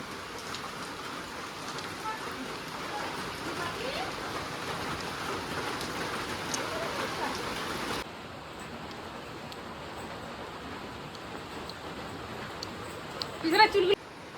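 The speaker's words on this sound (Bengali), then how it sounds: "সারাদিন বৃষ্টি হচ্ছে" Steady rain falls throughout the day, heard as a continuous soft hiss that drops slightly in level partway through, with a short burst of nearby sound near the end.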